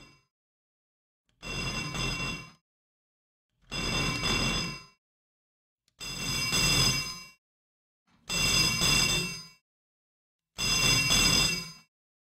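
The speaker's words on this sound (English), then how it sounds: "We'll just get that phone ringing." A recorded telephone rings in five evenly spaced bursts, each a loud, bright electronic trill of about a second, separated by silent gaps of about a second.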